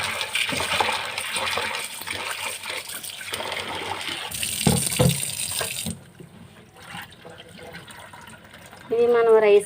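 Soaked lentils rinsed in water in a bowl or sink, with splashing, trickling and sloshing through the first half, a quieter stretch, then a louder burst of water near the end.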